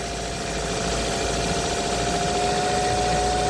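A Ford Focus engine held at raised RPM during a coolant drain and refill, a steady close drone with a constant hum and no breaks, filling the whole short stretch without talk.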